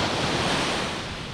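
Sea waves surging onto the shore at a beach in Pagudpud, Ilocos Norte, a loud steady wash of surf with wind buffeting the microphone, no voices.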